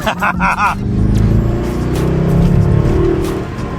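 An LS V8 engine roars as the car accelerates hard, a loud, sustained deep rumble after a brief burst at the start, with no talking.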